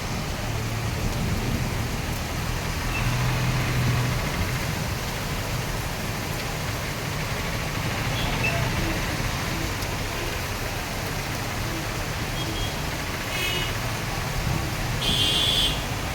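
Steady, dense rain pours down continuously on a hillside road, a broad hissing wash with low rumbling beneath, heard alone without any talking throughout.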